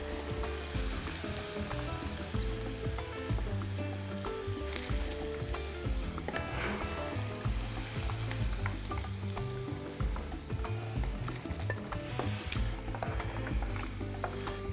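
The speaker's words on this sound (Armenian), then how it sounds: "Նույն կերպ տապակում ենք մնացած մսակտորները" Chicken breast pieces fry in a pan for an orange chicken dish, giving a steady, close sizzle with scattered crackles and stirring scrapes throughout, and no voices.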